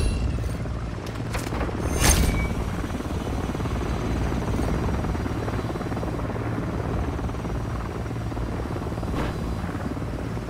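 A Longbow attack helicopter in Modern Warfare 3 thumps overhead with a loud, steady rotor drone, accompanied by faint distant gunfire cracks early on.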